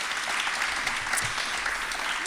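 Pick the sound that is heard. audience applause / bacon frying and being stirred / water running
audience applause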